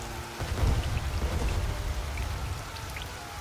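Cold rain falls steadily with a dense patter of drops and a low rumble of thunder beneath, continuous and fairly loud, with no voices.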